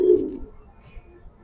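A large banded female pigeon gives a single short, low coo right at the start, close by, followed by quiet room noise.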